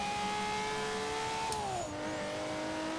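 Racing Nissan R33 GTR LM in Forza Horizon 3 screams at high, sustained revs, then its pitch drops sharply at a gear change before droning on, loud and close, with no voices.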